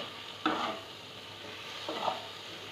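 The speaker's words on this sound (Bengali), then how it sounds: "এইভাবে কিছুক্ষণ নাড়াচাড়ার পর ভাজা ভাজা একটু হয়ে যাওয়ার পর আমি এর মধ্যে দিয়ে দেবো লঙ্কা দিয়ে আবার ভাজা ভাজা করবো।" Taro stolons stir-fried in mustard oil in a pan: two distinct scraping stirs of a spatula, close and clear, over a soft, constant sizzle of the hot oil.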